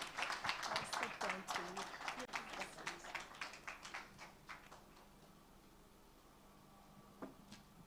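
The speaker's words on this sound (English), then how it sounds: "So please really honor her with your applause tonight." Audience applause at a book launch event, dense clapping that starts loud and gradually thins out over several seconds, fading to a few scattered claps and near quiet by the end.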